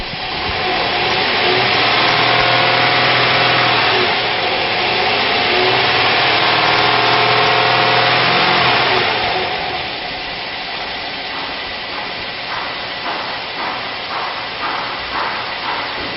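A 1999 Chevrolet Tahoe with a 5.7 liter V8 and automatic transmission runs loudly and steadily, with the engine note rising in the first half, then settling into a lower, rhythmic idle.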